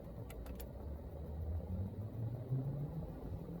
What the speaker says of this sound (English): man, that's a loud car.